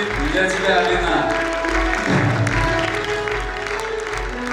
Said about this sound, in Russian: Эти аплодисменты для тебя, Алина